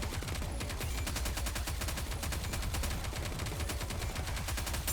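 Rapid sustained gunfire volley in the video game Goddess of Victory: NIKKE, a loud, dense stream of fast repeating shots filling the whole stretch without talk.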